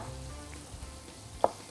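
Turkey fillet frying in a pan, a quiet low sizzle with soft crackles and one brief sharp pop near the end.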